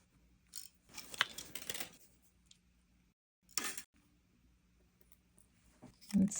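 Wire snipped with cutters while making a wire-wrapped pendant for a large faceted gemstone, a few sharp close clicks and snips separated by quiet pauses.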